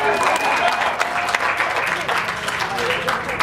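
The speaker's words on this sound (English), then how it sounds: "You can clap now." An audience at a vegan festival panel in LA claps steadily for a speaker's introduction, a dense, even patter of many hands with some crowd voices underneath.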